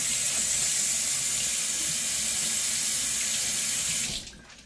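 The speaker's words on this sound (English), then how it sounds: "I'm going to take and rinse off a knife." Running kitchen tap water streams steadily into a sink while a knife is rinsed under it, a continuous close wash of water that cuts off abruptly near the end.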